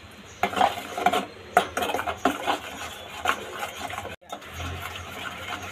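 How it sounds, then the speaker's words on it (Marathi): Masala for a Mughlai-style egg curry is roasted in oil in a pan and stirred, with a close metal utensil clattering and scraping against the pan in busy, uneven strokes and one brief pause. "मसाला आपला भाजून घेऊया।"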